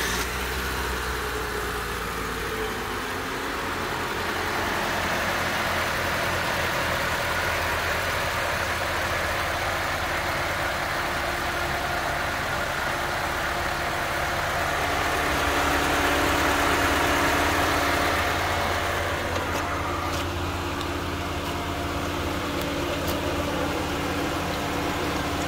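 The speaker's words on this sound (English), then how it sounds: "Veronica's gonna start the motor with the heater on high." A car engine idles steadily during a coolant flush with the heater on high, a continuous low rumble and hum that swells slightly midway, with no talk.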